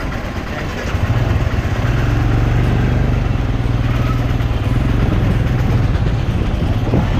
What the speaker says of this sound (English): I stopped the bike by the side of the road